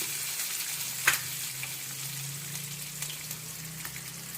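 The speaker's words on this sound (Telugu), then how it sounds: "వేసి మంచిగా కొంచెం లైట్ బ్రౌన్ కలర్ వచ్చే వరకు ఇలాగా కలియపెడుతూ ఉందాము" Chopped onions sizzle steadily in hot oil in a home kitchen pan while being stirred, a close, continuous frying hiss with a few soft clicks of the spoon and no talk.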